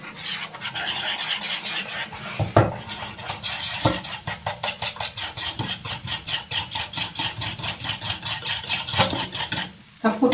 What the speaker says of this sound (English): You have to mix you have to mix it nicely.